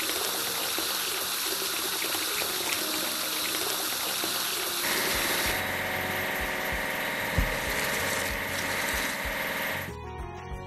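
Water gushes and sprays while an engine idles as a garbage truck is washed in a building video game, a steady rushing stream that changes character midway and cuts off near the end.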